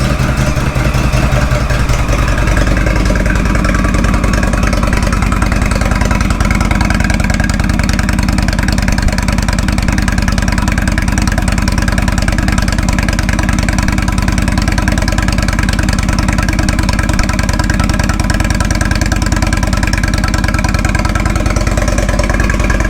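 A 2016 Indian Roadmaster motorcycle engine cranks and fires, then settles into a steady, loud, deep idle with a throbbing exhaust note that continues unbroken for about twenty seconds, close up and with no talking.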